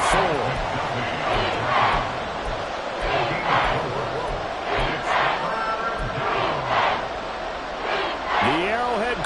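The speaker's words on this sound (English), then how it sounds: "The Arrowhead crowd in full roar." A packed stadium crowd at Arrowhead roars during an NFL football game, a loud sustained wall of cheering with swelling surges, while a commentator talks over it.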